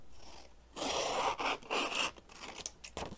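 Scissors cut a row from a sheet of paper copies, giving close, crisp snipping and rasping paper sounds in a few short bursts.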